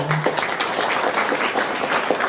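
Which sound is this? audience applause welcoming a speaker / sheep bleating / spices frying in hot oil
audience applause welcoming a speaker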